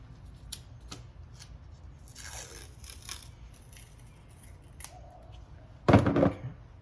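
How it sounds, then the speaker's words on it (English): Masking tape is peeled off a roll while a vehicle's exterior trim is being reattached, giving several short rasping rips and crackles, the loudest and closest near the end. "The first thing I'm going to do is I'm going to peel off some masking tape."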